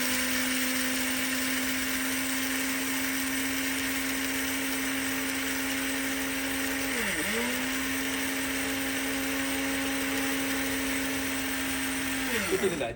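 An electric mixer grinder runs continuously at close range with a loud, steady motor whine. The pitch dips briefly around the middle and again near the end.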